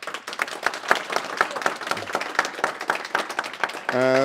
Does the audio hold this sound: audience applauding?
yes